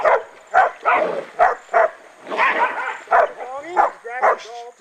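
Dogs bark repeatedly at a cornered wild boar during a hunt, in quick, uneven bursts, loud and close, with yips mixed in and a few excited whimpers between barks.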